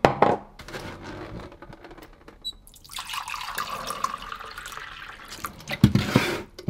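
Tap water runs steadily into a small pot in a home kitchen during a morning coffee routine, starting after a few soft knocks and handling sounds, with a brief clunk near the end.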